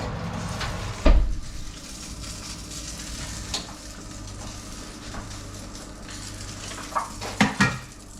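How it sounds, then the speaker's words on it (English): Mackerel fishcakes fry in hot oil in a pan, a steady close sizzle with a loud clunk early on and a few scraping, clattering pan knocks toward the end. "I can just cook them all there in the pan"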